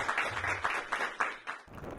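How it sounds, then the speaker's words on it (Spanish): Applause from an audience at a Latin America and Caribbean week event, a short burst of dense clapping at moderate level that thins out after about a second and a half. "Sí, bueno, un aplauso,"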